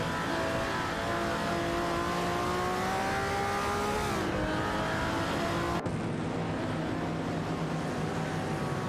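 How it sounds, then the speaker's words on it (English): Engine roar of race cars in a video game, a 1970 Plymouth Superbird and a Ferrari 250 LM, holding steady and loud with layered engine tones that dip briefly and shift pitch partway through. "Stan Labanam in a Plymouth Superbird 70, while UG Nitro and Newcomb Bockham battling it out in a Ferrari 250 LM."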